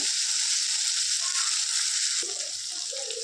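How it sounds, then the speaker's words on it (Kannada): Chopped tomatoes cook in oil in a pan for a village-style drumstick dish, hissing with a steady, bright sizzle throughout and a slight dip partway through. "ಟೊಮೆಟೊ ಸಾಫ್ಟ್ ಆಗೋವರೆಗೂ ಬೇಯಿಸ್ಕೋಬೇಕು"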